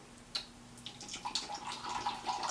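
Pepsi poured hard into a glass, a bubbly splashing pour that builds in fizz and sputter over a couple of seconds, close up, with no speech.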